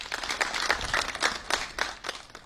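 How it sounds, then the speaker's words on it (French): Several people clap for medical staff at a hospital facing the coronavirus in Benin, sparse, uneven claps that come as distinct bursts over a couple of seconds at a moderate level. "Elle reçoit les applaudissements du ministre de la Santé"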